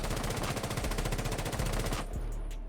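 A sustained burst of automatic fire from an R4C assault rifle in Rainbow Six Siege, with rapid, evenly spaced shots loud and close for about two seconds, then stopping abruptly into a brief quieter tail.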